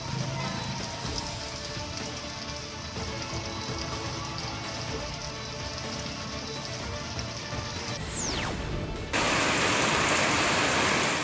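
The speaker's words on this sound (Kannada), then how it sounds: "ಮೂಡಿಗೆರೆ ತಾಲೂಕಿನಾದ್ಯಂತ ಬಿರುಗಾಳಿ ಸಹಿತ ಮಳೆ ಸುರಿತಾ ಇದ್ದು ಜನಜೀವನ ಅಸ್ತವ್ಯಸ್ತಗೊಂಡಿದೆ" Heavy rain with strong wind lashes the Mudigere area, a dense, steady hiss of downpour that swells briefly louder near the end.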